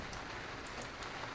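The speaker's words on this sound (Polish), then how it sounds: "W tle słyszycie deszcz." Steady rain falls in a continuous, even hiss, with scattered light drop ticks spread through the whole stretch at a consistent moderate level.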